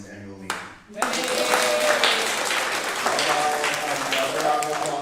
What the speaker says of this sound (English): How about a round of applause if you are enjoying this annual meeting?